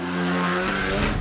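Ariel Atom sports car, about 780 bhp per tonne, accelerating hard on the road, its engine note rising loud and close in a brief burst.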